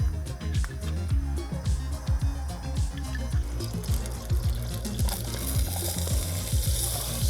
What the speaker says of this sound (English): we're gonna get our burner back going and start to saute all of these yummy ingredients in there with a little bit of oil